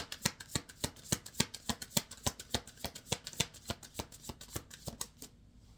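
Tarot cards are shuffled in a quick, even rhythm of crisp riffling slaps, about two dozen in a row, close and fairly quiet, stopping just before the end.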